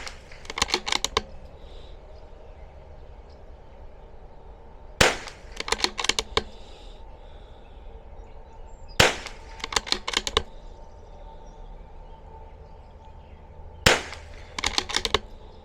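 An older vintage rifle with a long barrel fires at a range, shot by shot with several seconds between reports, each a sharp crack followed by a brief rattle and echo.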